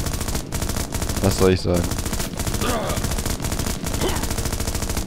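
Sustained rapid automatic gunfire in the shooter game Global Ops: Commando Libya, loud continuous bursts filling the scene, with a brief spoken line in German over it.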